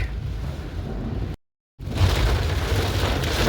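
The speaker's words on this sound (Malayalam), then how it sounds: "മഴ നല്ല സൂപ്പർ മഴ കണ്ടോ പുറത്തേക്കൊക്കെ നോക്കിയാൽ നല്ല സൂപ്പർ മഴയാണ് കേട്ടോ" Heavy rain roaring steadily, heard from inside a moving vehicle, broken by a brief moment of silence before the downpour resumes even louder.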